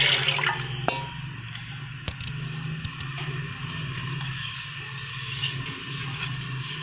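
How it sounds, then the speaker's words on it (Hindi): A liter of milk pours into a cooking pot for fruit trifle, a steady close liquid rush with a slight splash at the start, running continuously with a few faint knocks. "दूध डाल देंगे"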